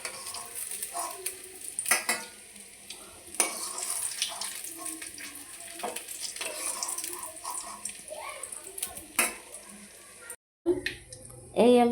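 Cumin seeds and bay leaf tempering in hot oil, a continuous crackling sizzle with scattered utensil clatter and water sounds, broken by a brief silence near the end.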